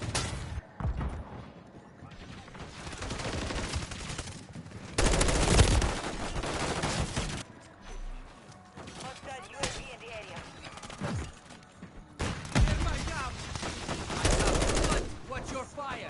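Rapid automatic gunfire and explosions from the video game Call of Duty Modern Warfare 3, dense bursts and bangs running throughout, with a player talking over the game action.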